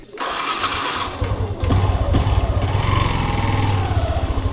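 A motorcycle engine on a solo ride in rainy Meghalaya hills cranks and catches, then settles into a steady, close, throbbing idle.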